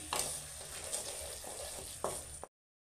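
Tomato cooks gently in a pan over a low gas flame for potol korma, giving a soft, steady sizzle with a few brief stirring scrapes. The sound then cuts off abruptly.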